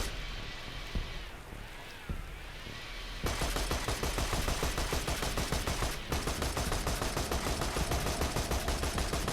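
Gunfire in Borderlands 2: a few scattered shots at first, then a dense, loud sustained burst of rapid automatic fire that continues with a brief pause near the end.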